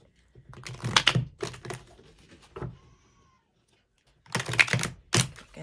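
Tarot cards are shuffled in two quick bursts of dry riffling and flicking, close up, separated by a brief pause.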